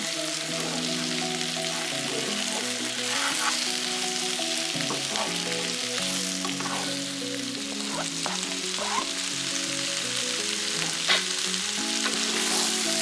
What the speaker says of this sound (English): Add the seasoned shrimp to the pan and stir to coat them in all the spices.